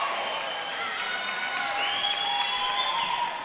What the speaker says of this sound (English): the crowd applauding some gymnastics work over here on the left-hand side